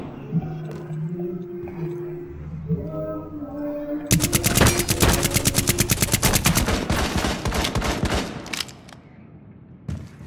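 Rapid automatic gunfire in the Rainbow Six Siege video game, a dense burst of repeated shots starting after a few seconds of quiet game ambience and continuing loud for several seconds, with brief player chatter mixed in.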